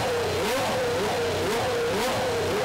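A race car engine catches and revs, a steady loud mid-pitched drone with wavering rises in pitch, close and alone throughout.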